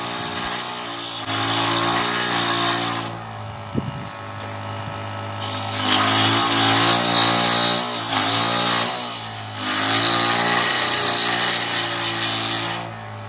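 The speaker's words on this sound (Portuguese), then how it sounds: "Nós vamos cortar ela agora, né, para deixar ela fazendo o formato da frente." A power tool cuts and sands a model car's front piece for a D20 truck model, loud steady whining bursts with brief pauses between passes and a low motor hum underneath, no talk.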